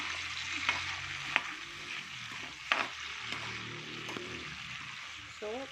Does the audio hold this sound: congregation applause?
no